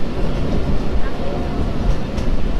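A train nearing Bhanga railway station on the Faridpur line gives a loud, steady rumble and rattle of moving carriages, heard up close from on board.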